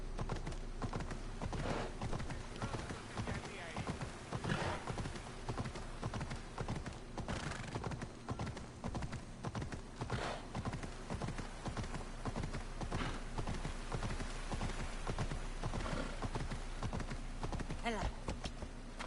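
Horse hooves clip-clop steadily and continuously in the Assassin's Creed Odyssey video game, a galloping rhythm over ambient game sound with occasional whinnies and a voice speaking at times.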